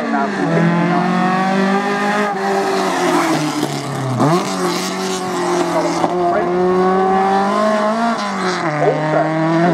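A 1969 Ford Mustang racing car engine revs and roars continuously, its pitch rising and dropping through gear changes, loud and close throughout.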